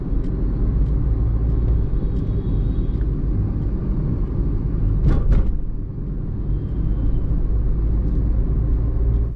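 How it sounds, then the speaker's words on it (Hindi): A Maruti Swift VXI automatic (BS4) cruises in third gear: steady low engine and road rumble fills the cabin, broken briefly by a sharp knock, with no talking. "तीसरे गियर पे कार अभी चल रही है देखो"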